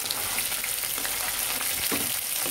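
Paneer pieces shallow-fry in oil in a pan, making a dense, continuous crackling sizzle heard close and alone.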